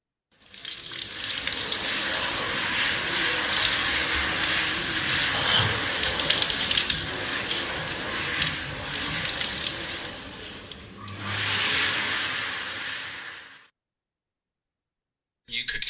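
Water runs steadily from a tap for ritual ablution washing, a close, continuous hiss and splash that shifts slightly in force, pauses briefly, then resumes before stopping into silence.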